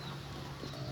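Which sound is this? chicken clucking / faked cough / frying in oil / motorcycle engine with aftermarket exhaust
chicken clucking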